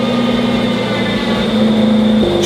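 A rebuilt BMW X3M, once wrecked, idles steadily with a smooth, even engine hum that stays loud and close throughout, with no voices.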